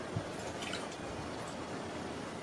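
Saffron milk base poured into a jar, a steady soft liquid trickle with faint drips running throughout, close and quiet.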